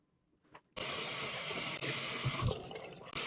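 A shower turns on after a brief quiet clatter, then runs in a steady close hiss of spraying water that shifts slightly as something moves under the stream.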